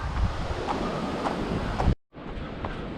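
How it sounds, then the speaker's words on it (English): Strong gusty wind roars across the microphone on a coastal hiking trail, a loud buffeting rush with a brief drop-out before continuing. "The wind is just not letting up."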